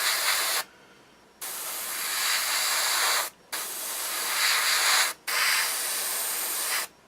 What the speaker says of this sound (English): I think you can probably see just how little action I'm actually giving the airbrush.